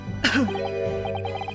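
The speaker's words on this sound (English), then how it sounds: "Yeah, I'm coughing now for him." A single sharp cough up close, followed by a faint voiced sound over a steady background hum.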